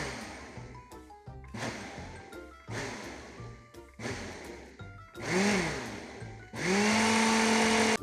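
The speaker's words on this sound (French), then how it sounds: "Boisson pétillante dans un mixeur." A kitchen blender mixes Coke for a homemade ice cream, whirring loudly in several short stop-start bursts before one long, louder continuous run.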